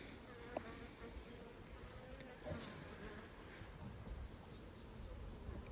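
Honey bees on brood comb during a hive transfer, a steady, faint buzzing hum from many bees close by, continuous throughout, with a few light clicks and no talking.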